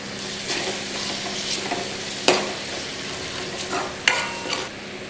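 Spices sauté in a hot tempering with fresh coriander, giving a continuous low sizzle broken by sharp spatula clacks against the pan and occasional louder crackles, close by with no talking.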